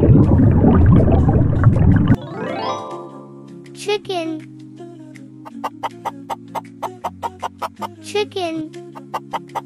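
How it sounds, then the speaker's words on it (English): Cartoonish chicken clucks in a toddler first-words learning video: a harmonic call after a burst of noise, then a quick string of short, sharp clucks, clear and alone. "Chicken."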